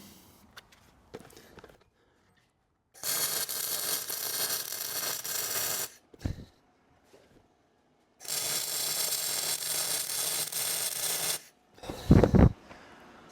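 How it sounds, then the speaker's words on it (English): Steel slats being welded for a CNC cutting table, with two long bursts of steady crackling, hissing arc noise a few seconds each, separated by quiet pauses and a few short metallic clanks. "So I'm just going to get this guy welded in."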